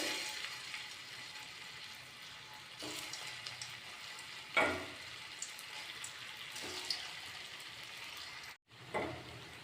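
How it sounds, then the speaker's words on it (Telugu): Cabbage manchurian balls deep-frying in oil, a soft continuous bubbling sizzle with occasional louder spurts as balls drop in, fairly faint and steady throughout. "ఇందులో ఇలా బౌల్స్ చేసి నూనెలో వేయించుకోవాలి."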